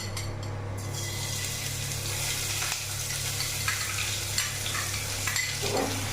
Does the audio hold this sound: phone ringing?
no